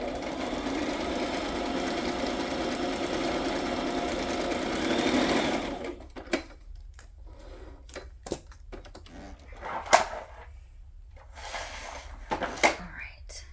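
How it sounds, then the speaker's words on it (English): A sewing machine runs a zigzag stitch in a steady, close mechanical rattle for about six seconds, then stops, leaving quiet handling clicks and faint knocks. "I'm just going straight down with a zigzag stitch"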